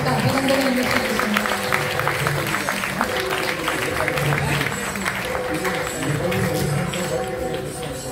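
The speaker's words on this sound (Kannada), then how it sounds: "ಎಲ್ಲರಿಗೂ ದೊಡ್ಡ ಚಪ್ಪಾಳೆಯ ಮೂಲಕ ಅಭಿನಂದನೆಯನ್ನು ಸಲ್ಲಿಸುತ್ತೇನೆ" An audience applauds at a stage performance event, with a broad stretch of clapping that mixes with voices for the whole stretch.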